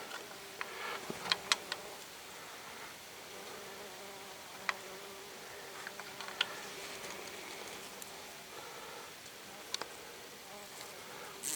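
Bumblebees buzz softly and steadily around colored feeding and watering bowls, a faint continuous drone with occasional sharp ticks and taps, and no voices.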